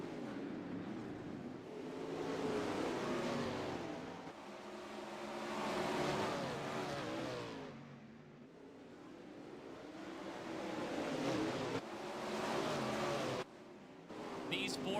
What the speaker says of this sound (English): These 410 sprint cars absolutely fly around WeedSport